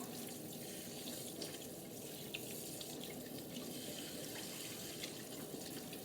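Water runs steadily from a kitchen tap as hands are washed after handling raw food, giving a continuous close splashing hiss with no break.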